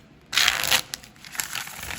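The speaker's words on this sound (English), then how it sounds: "Right, two more shuffles." Crisp papery riffling in a few bursts, close and fairly loud, as tarot cards are shuffled by hand, with softer rustles after.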